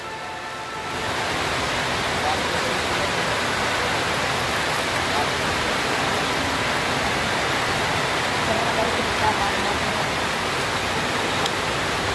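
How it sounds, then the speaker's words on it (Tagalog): Heavy rain pours down steadily, a dense, loud broadband roar that swells in within the first second and continues unbroken, likely drumming on a roof. "Lakas ng ulan mga kalingap."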